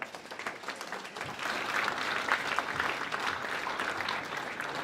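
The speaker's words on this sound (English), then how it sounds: "Round of applause for Colleen." A crowd applauds steadily, the clapping swelling slightly after a second and holding at moderate loudness, somewhat distant.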